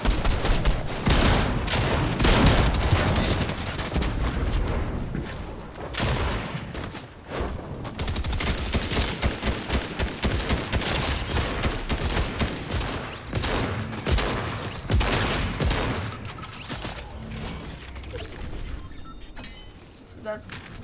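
Rapid bursts of gunfire ring out at a gas station in Fortnite, loud and close, repeated volleys and single shots running almost without pause, with voices talking over the action.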